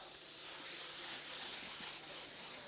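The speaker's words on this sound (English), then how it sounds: "I can spray at different angles to get a desired effect I want." Spray paint hissing from a can while painting a realistic flame effect: a steady, close broadband hiss that runs unbroken from start to finish with no other sounds.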